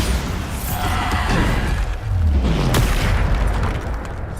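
Bombarda spell blast in Hogwarts Legacy, a deep booming explosion that rumbles through the whole clip with a brief crackling burst midway, loud and close with no talk.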